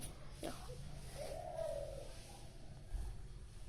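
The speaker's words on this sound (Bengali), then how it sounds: "পাখি ডাকে ইয়া করে" A single soft, dove-like coo sounds faintly from a bird in a village setting, rising briefly over quiet outdoor background.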